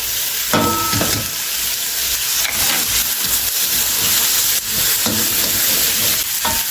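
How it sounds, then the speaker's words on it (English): Peppers and ginger stir-fry in a very hot pan over a high flame, giving a loud, steady sizzle with scraping stirs and clanks of a utensil against metal, and no voices. "it's quick stir fry. So the fire should be hot."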